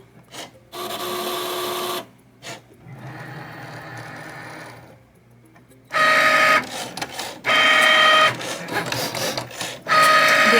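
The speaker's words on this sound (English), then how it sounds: "I'm going to go ahead and feed this in, and it's going to cut without a mat." A Cricut cutting machine slices cardstock sticker paper without a mat, giving loud mechanical whirring and motor runs that start and stop in bursts, close by, with brief quiet pauses between passes.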